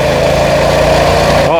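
A homemade bike pusher's 212cc engine runs steadily at close range, a loud continuous mid-pitched drone that dips briefly near the end, with a voice talking over it.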